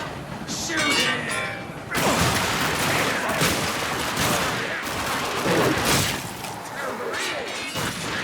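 Heavy gunfire in The Darkness II video game, dense overlapping shots and crashes roaring continuously throughout with shouting voices mixed in.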